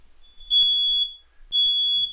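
A home smoke detector gives two loud, piercing electronic beeps about a second apart, alone in a quiet room.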